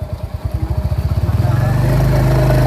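A Royal Enfield Hunter 350 motorcycle engine thumps at a steady idle in a rapid, even pulse, then revs up into a louder, smoother drone, close and dominant with no voices over it.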